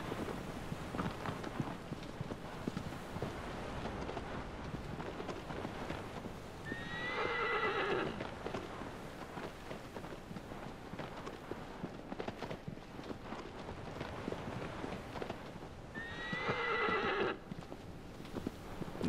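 Steady galloping hoofbeats thud along in a video game while a horse whinnies twice, loudly and close, with a long gap between the neighs.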